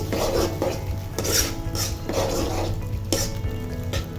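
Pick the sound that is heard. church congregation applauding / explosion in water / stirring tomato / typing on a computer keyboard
stirring tomato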